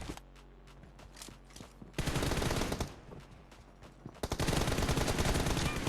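Rapid automatic gunfire rattles in the mobile battle game PUBG Mobile, with light clicks at first, then dense loud bursts, a brief lull and another sustained burst.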